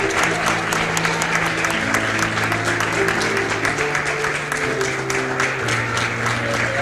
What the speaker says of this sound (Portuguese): Vamos aplaudir Jesus mais uma vez